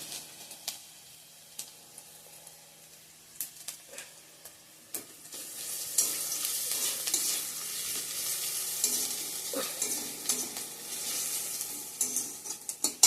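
Ginger frying with panch phoron spices in a pan, a steady close sizzle building from sparse crackles into continuous frying, with scattered clicks of stirring throughout.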